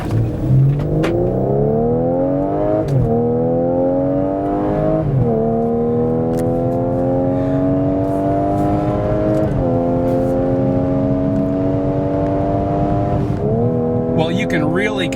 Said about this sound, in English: You can really get seduced by the sound of this exhaust because it is sweet.